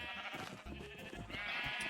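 Sheep in a video game bleat in a busy, layered mix, with a steady game soundscape around them.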